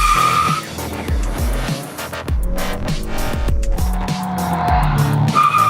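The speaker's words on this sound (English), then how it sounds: "Now we're going to learn how to launch and heel-toe downshift." A 2019 Honda Accord with a manual transmission launching hard, engine revving up through repeated rising pulls with loud tire squeal and skidding, close and continuous throughout.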